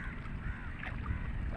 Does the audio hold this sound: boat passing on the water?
yes